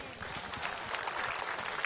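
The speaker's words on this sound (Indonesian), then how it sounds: "Tepuk tangan dong buat Cila." Applause from a religious gathering's audience, a dense wash of clapping filling the short moment at moderate volume with crowd murmur mixed in.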